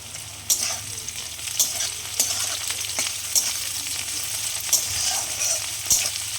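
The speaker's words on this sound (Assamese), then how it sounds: "আৰু দিম মই 2টা এলাচি, লং অলপ, এইখিনি মই এতিয়া তেলত দিম।" Cardamom pods and cloves frying in hot oil in a home kitchen, a steady soft sizzle broken by sharp crackling pops roughly every second, close and with no voices.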